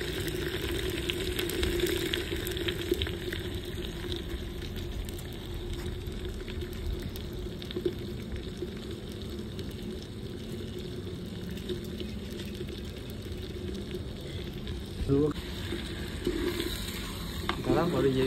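Marinated desi chicken and whole garlic cloves frying in a handi, giving a steady loud sizzle with scraping and stirring throughout, and a few clatters near the end.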